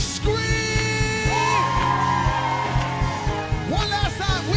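A large crowd at a California governor's inauguration screams and whoops loudly and continuously, with sustained yells and cheers filling the space and rising again near the end.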